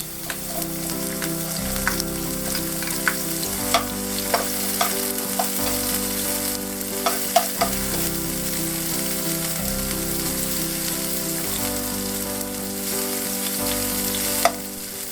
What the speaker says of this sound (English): Start the pepper frying.